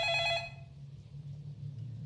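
A telephone rings in the film The Ring (2002): one short, bright electronic ring cut off after about half a second, followed by a low, quiet hum.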